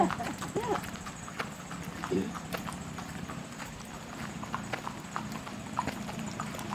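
Horse hooves clip-clop in a steady rhythm at moderate distance, with background ambience and some faint voices.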